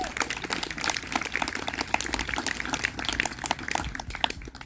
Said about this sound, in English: So a round of applause to our Wind Symphony